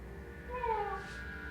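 Cat meowing, a single short drawn-out meow, faint and close over a quiet low hum.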